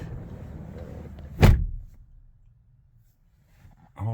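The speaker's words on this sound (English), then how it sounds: "We'll close this door here." A Lexus LS400 door shuts with a single solid thump, loud and close, inside a car with a low background hum; the cabin falls quiet afterward before a short rustle at the end.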